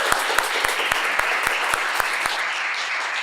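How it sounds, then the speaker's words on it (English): A full audience applauds to welcome a speaker at a Startup Grind Detroit event, a dense steady roar of clapping with a few sharp nearby claps standing out, holding loud throughout. "give Nathan a big round of applause"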